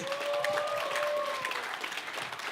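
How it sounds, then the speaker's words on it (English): Audience applause after three women are introduced at a Toastmasters event, a steady wash of clapping with some cheering and crowd noise, fairly loud throughout with no speech over it. "Why don't you rise and give an applause to these 3 wonderful ladies?"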